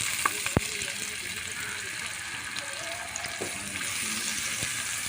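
Onions fry in oil in a pan with a steady, moderate sizzle, broken by a few sharp clinks of a utensil against the pan.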